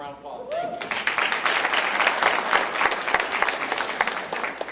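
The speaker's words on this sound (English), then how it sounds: "Give him a round of applause." Audience applause at a middle school education event, a roomful of people clapping steadily and moderately loud after a short spoken phrase, continuing throughout with a few louder individual claps.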